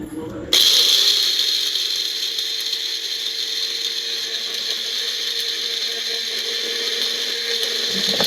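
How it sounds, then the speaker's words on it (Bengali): Electric mixer grinder whirring loudly and steadily as it grinds roasted whole spices into powder, starting abruptly with a sharp mechanical rattle and running continuously before cutting off. "একটা মিক্সার গ্রাইন্ডারে সমস্তটা একটু গ্রাইন্ড করে একটা পাউডার বানিয়ে নেব।"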